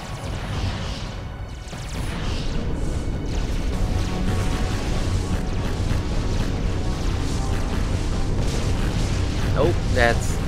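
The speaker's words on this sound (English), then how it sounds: "Oh, that's some explosions on the ship." A spaceship in the space strategy game Sword of the Stars takes a run of explosions: continuous heavy rumbling booms and crashes, loud and dense, with a voice talking over part of it.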